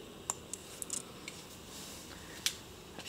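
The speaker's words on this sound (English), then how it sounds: "you want to be really careful to cut it right down the middle" Scissors or a blade cutting a pepper seedling stem for cleft grafting, a few small sharp clicks and snips spread over a quiet background, close and faint.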